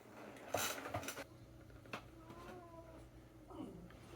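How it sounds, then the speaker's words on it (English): A cat meows a few times indoors at moderate distance, with clatter of dishes and cutlery and faint background noise around the calls. "I got a cat."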